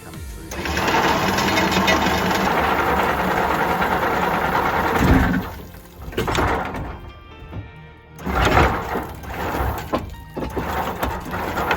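Anchor chain rattling up through the windlass on an HH52 catamaran, with a steady mechanical whir and clatter for about five seconds, then a brief lull before more uneven churning and clanking.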